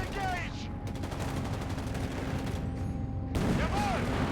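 An anti-tank gun fires at a tank in Company of Heroes 3 amid dense battlefield noise, with a sharper, louder report near the end over continuous rumbling combat.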